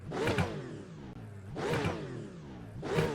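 A Porsche 992 GT3 with a 4.2-litre engine in the iRacing sim gives three loud, rising revving passes that swell and fade at regular intervals, each sweeping up through its harmonics.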